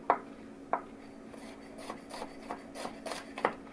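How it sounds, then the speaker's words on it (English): A knife chops scallions on a cutting board, giving a few sharp, close taps spread unevenly, with quieter scraping and light knocks between them and no talking. "Try and cut the scallions as small and evenly as possible."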